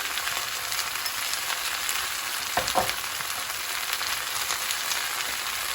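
Onions and chillies with salt and paprika frying in a pan, a steady close crackling sizzle with a brief louder spatter near the middle.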